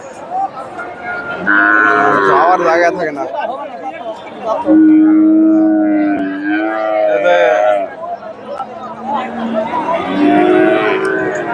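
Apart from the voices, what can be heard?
cattle mooing at a livestock market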